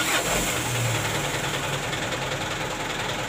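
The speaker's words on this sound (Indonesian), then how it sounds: "Oke, kita coba hidupkan lagi." Car engine starting and settling into a steady idle hum, close and moderately loud, with no voices.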